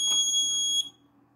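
A short, shrill electronic alarm beep from an ESP32-CAM QR-code parking system, rejecting a wrong card, sounds loudly for under a second, then cuts off, leaving a faint low hum.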